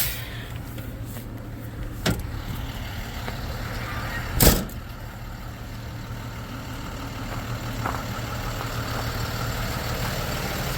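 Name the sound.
tow truck engine idling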